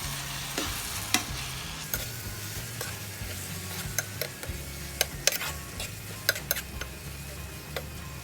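Spaghetti sauce, sweetened with a teaspoon of brown sugar, stirred in a pan with a steady low simmer or sizzle and scattered light utensil clicks against the pan throughout.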